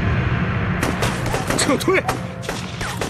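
Heavy gunfire in a war film about resistance against Japan, dense cracking shots over a loud battle din with someone shouting an order to retreat.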